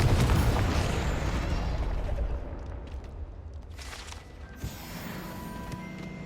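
A Confringo fire spell bursts in Hogwarts Legacy, a loud rumbling blast that fades over several seconds, followed by a softer secondary pop.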